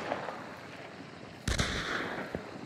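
Gunfire from the video game Hunt: Showdown: a couple of sharp distant shots crack out over a quiet background, the louder report landing near the middle, with no speech.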